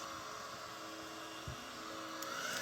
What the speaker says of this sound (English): This is just my hair dryer. This really helps dry it fast.